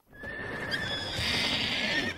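A horse at a ranch lets out a loud, drawn-out, high whinny that rises and holds, close by, over a steady patter of hoofbeats, with no talking.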